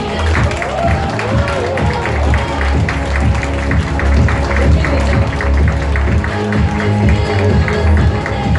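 Audience at a skincare seminar applauding as a lecturer is introduced: dense, steady clapping for about eight seconds, with some voices mixed into the crowd.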